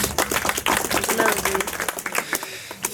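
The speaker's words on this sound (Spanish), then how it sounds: "Aplausos, aplausos." Brisk, steady clapping from a small gathering at a family birthday celebration, many hands close together in a dense, even patter lasting several seconds, with faint voices mixed in.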